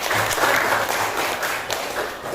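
Junior high students in a classroom clap together in a loose, uneven burst of applause that swells and fades slightly, with faint voices beneath.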